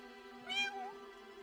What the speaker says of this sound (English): you would just have like a weird little cat in a house and you could pick them up and they would make weird sounds